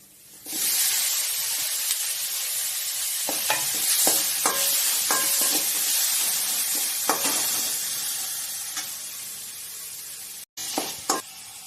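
Steady loud sizzling of tomatoes frying in a hot pan, with occasional scraping stirs and clinks of a spatula, no voices.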